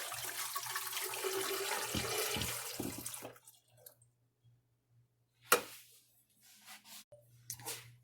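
Goat milk pours into a container for homemade ice cream, a close splashing stream for about three seconds, then stops, followed by a few faint clicks and knocks.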